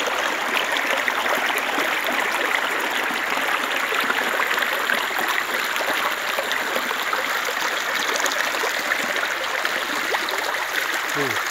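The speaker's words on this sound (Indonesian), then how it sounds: "Ini gemericik air." A clear river stream runs behind a house, its babbling water a steady, dense rush that stays close and constant throughout with no voices.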